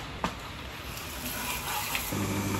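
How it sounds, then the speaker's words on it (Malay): Running water washes a hand-sanded carbon fiber coated part, a soft continuous splashing flow with a brief knock near the start and a fuller gush toward the end. "Okey, lepas tu kita cuci dengan air."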